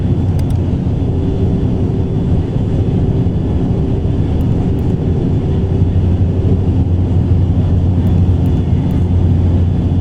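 An ATR turboprop descending toward Gibraltar in the Prepar3D v5.2 flight simulator, its engines a loud, even, low drone that holds steady from start to finish.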